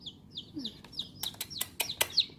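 High, thin cheeping from small chicks, a rapid series of peeps with a few sharp clicks and taps, close and moderately loud.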